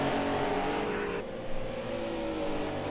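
Renault RS 01 race cars in Project Cars 2 scream past through a corner, a loud continuous engine howl that shifts pitch midway as one car passes, with no voices.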